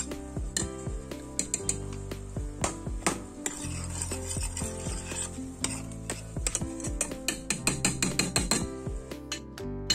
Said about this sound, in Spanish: Vamos a añadir los ajos. Y continuamos pochándolo un poquito.